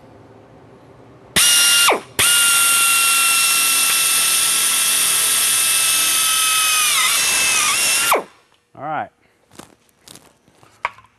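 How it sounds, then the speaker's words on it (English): A drill bores into the center of a vandal security cover, one long loud whining burst after a brief start, then it stops and a few short clicks and a spoken voice follow. "So now I'm going to drill this out."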